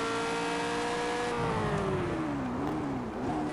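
McLaren P1 engine at full throttle, a loud, steady, close-up high-pitched drone whose pitch slides lower as the car accelerates and shifts, with wind and road roar underneath.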